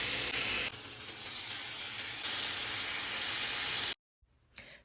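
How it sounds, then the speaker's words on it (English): Vegan mushroom chick-un sizzles loudly in a hot grill pan, a dense, steady hiss and crackle up close that cuts off abruptly near the end, followed by a brief faint rustle. "let's go ahead and pause for this sizzle effect"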